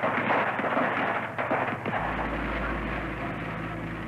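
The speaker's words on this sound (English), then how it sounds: "There's a gunshot, perhaps two, followed immediately by a barrage." Gunfire from guardsmen at the Kent State shooting: a dense, crackling barrage of shots that rolls on, then drops to a lower, steady rumble, with no voices.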